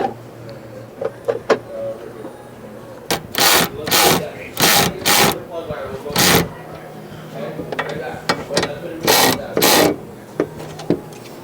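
A ratchet with a 13 mm socket tightens a Camaro battery bracket, bursts of sharp clicking in several runs with short pauses between, close and loud, with a voice talking in between.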